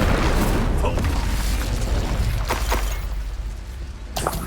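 Fiery Incendio spell blast in the Hogwarts Legacy video game: a loud, dense burst that rumbles and fades over a few seconds, with a sharper crack near the end, the game's speech faintly beneath.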